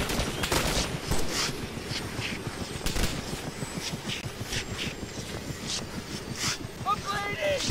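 Gunfire in the military video game Operation Arrowhead: repeated sharp shots and bursts over a rumbling background, with voices heard across the whole clip.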